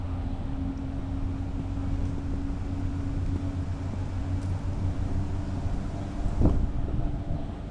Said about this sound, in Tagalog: wow, sarap naman ang hangin guys